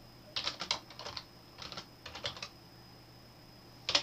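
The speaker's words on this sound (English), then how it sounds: "I can keep pressing return and I type the date" Short bursts of keystrokes on a computer keyboard as a date is typed into a letter, several quick clusters of clicks close up with brief pauses between, then a final louder tap like the return key.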